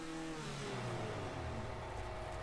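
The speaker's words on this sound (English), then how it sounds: "That exhaust note." A car exhaust revs in GTA Online, a faint, steady engine drone that rises slightly in pitch and stays in the background with nobody talking.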